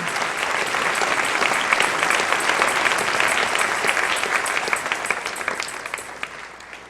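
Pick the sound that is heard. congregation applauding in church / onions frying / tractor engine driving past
congregation applauding in church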